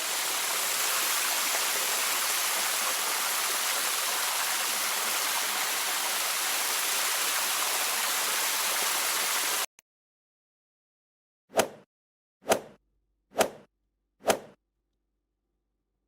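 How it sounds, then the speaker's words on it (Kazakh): A water sprinkler sprays in a steady, loud, hissing rush for nearly ten seconds, cuts off abruptly, and four sharp, evenly spaced taps follow in silence. "Керемет! Бұл су сепкіш."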